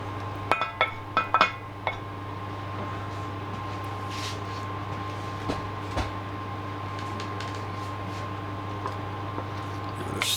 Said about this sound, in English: Now you're going to return the beef to the pot once it's all simmering